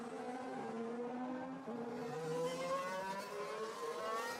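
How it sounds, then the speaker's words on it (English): Formula 1 cars in 2016 Monaco qualifying, engines whining with steady rising and falling pitch as cars pass along the street circuit, a continuous mid-distance drone with no talk. "There's 12 cars out on the track now then."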